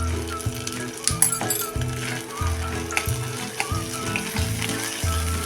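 Masala with chili powder fries in a pan, a steady close sizzle broken by regular stirring scrapes and occasional clinks of the spoon against the pan.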